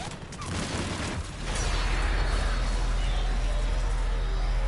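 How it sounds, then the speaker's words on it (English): Heavy booming cannon fire in Mass Effect Legendary Edition with a sustained low rumble and crackling bursts, loud and continuous after a brief noisy opening. "That's the cannon."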